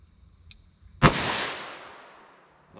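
A single sharp .357 Magnum handgun shot fired through a 4-inch barrel, with a loud crack and a long, fading echo tail in an otherwise quiet setting.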